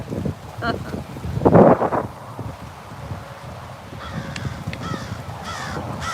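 A large crow caws a few times outdoors in the Everglades at Big Cypress, with gusty wind buffeting the microphone and some faint bird calls in the background.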